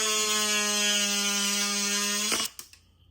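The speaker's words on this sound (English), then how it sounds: "You're going to grind off this spot here." A small rotary tool grinds a spot on a power wheel gearbox, a loud, steady high-pitched motor whine with a grinding edge that cuts off after a couple of seconds, followed by a few faint clicks.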